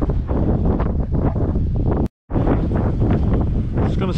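Heavy gusting wind roars against the microphone during kayak fishing on open water, loud and continuous apart from a brief dropout midway.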